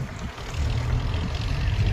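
Tractors moving through a red onion market auction yard, a steady low engine rumble nearby that rises and holds throughout, with no voices.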